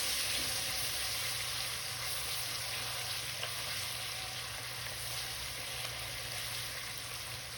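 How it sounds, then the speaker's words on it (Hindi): Ginger garlic paste and coarsely pounded green chili paste fry in a pan for chana pulao, giving a steady, even sizzle that stays level and close throughout with no talk. "थोड़ा सा फ्राई करेंगे।"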